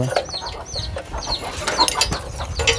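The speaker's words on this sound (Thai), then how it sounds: "ไก่ขึ้นทั้งเฮือน" Chickens that have come up into a rural Thai house cluck and squawk close by, with repeated short calls overlapping in a busy, irregular rhythm and no talk.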